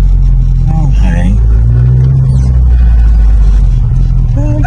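A turbocharged Honda Civic SiR engine revs loudly and close by, its pitch rising and falling, with people talking over the roar.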